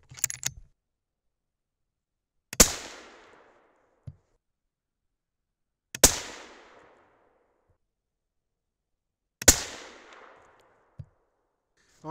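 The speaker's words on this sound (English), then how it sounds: "Pretty distinct hang fire." A 6.5 Creedmoor rifle loaded with H380 powder fires several loud, sharp reports spaced a few seconds apart, each with a short decaying echo, amid quiet outdoor stillness and faint clicks of the action between shots.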